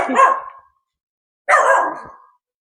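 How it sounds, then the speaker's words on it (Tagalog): A dog barks twice nearby, two loud separate barks about a second apart, with silence between. "Ay, may dog."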